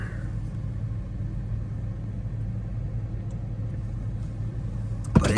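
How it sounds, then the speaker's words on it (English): A truck engine idles while warming up on a cold day, a steady low rumble that stays even and close throughout, ending with a brief louder clunk. "Truck's warming up."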